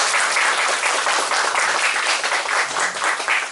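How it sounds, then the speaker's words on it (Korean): A church congregation at a Korean police university chapel service applauds warmly, dense steady clapping from many hands filling the room throughout. "박수하시겠습니다."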